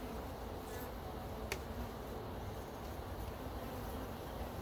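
Honey bees swarm in an opened backyard hive, a faint, steady hum of buzzing wings running throughout, with a brief tick partway through.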